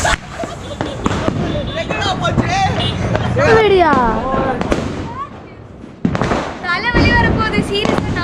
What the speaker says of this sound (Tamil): சீரியஸா நாட்டு வெடி வெடிச்சிட்டு இருக்காங்க